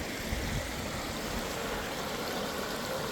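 Twin Falls waterfall on a canoe trip, heard as a steady broadband rush of falling water, close and continuous, with nothing else over it.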